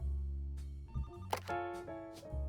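A telephone rings in the video game The Roottrees are Dead: a loud, close, buzzy electronic trill sounds in short bursts over a low, humming musical background.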